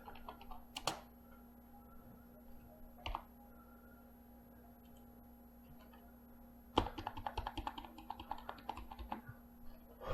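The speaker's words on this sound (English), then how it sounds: "it's just page up and page down on the keyboard in After Effects" Computer keyboard keys are tapped as page up and page down step through frames in After Effects: a few isolated clicks, then a run of rapid, close typing against a faint electrical hum, with no talk.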